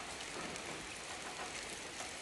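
Soft, continuous patter of spring rain dripping from the eaves in a countryside setting, an even hiss of drops held at a faint, steady level with no voices.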